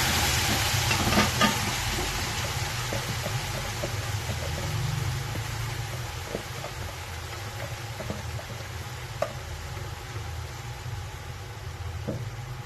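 Onions, with leek, frying in a pan until light brown, producing a steady soft sizzle over a low rumbling background, with occasional faint clicks and clinks of stirring.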